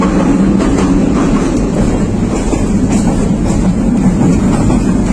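Moving commuter local train from Chandpur to Chittagong heard from inside the carriage near the toilet, a loud continuous rumble and rattle of wheels on track with a steady roaring drone.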